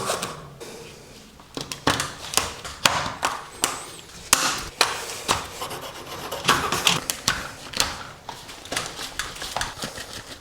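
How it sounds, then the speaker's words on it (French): Copper busbar combs for an electrical panel are filed straight with a hand file, giving a series of short, close, rasping strokes in an uneven rhythm over about ten seconds, with brief pauses between bursts. "Un petit coup de lime pour leur faire droit."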